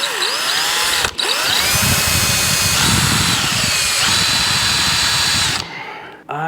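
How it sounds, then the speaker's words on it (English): A power drill whines loudly and steadily as it bites into a stout piece of metal for an open pit grill, pausing briefly once, then winding down near the end. "let's try to drill a hole in this"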